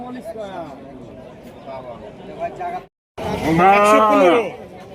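At a cattle market in Rajshahi, a bull lets out a loud, drawn-out moo near the end, after a stretch of lower lowing mixed with people talking nearby.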